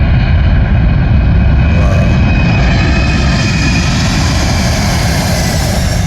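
Loud, steady roar of a large military propeller plane's engines at full power taking off from Whenuapai Airbase, Auckland, very close and continuous, with a deep rumble and a high whine layered above.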